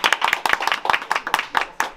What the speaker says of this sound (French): J'aimerais un tonnerre d'applaudissements pour Paul Joachim Pereira, s'il vous plaît.